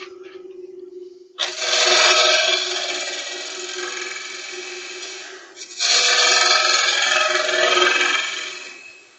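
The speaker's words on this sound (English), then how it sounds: "Just going to take a wee bit more out of here with my spindle gouge." A spindle gouge cuts into a spinning wooden box on a lathe: two long, loud, rough cutting passes separated by a brief pause, over a steady motor hum.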